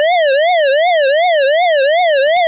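An Envosound 8-bit gaming synthesizer plays a glide siren effect, a buzzy square-wave tone sweeping smoothly up and down in a steady repeating wail, loud and alone, with a faint click near the end.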